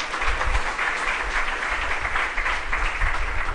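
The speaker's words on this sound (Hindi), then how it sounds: "बजाओ तालियां।" Audience at a spiritual discourse gathering clapping together, a sustained, dense wash of applause that stays steady and fairly loud throughout, with no voice over it.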